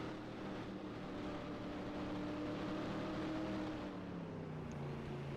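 A race truck engine in NASCAR Racing 2003 at Rockingham drones steadily with a low, wavering tone, sounding rough through a turn, alone with no voices.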